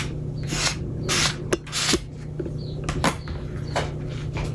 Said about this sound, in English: And again, I'm just going to scrape it away.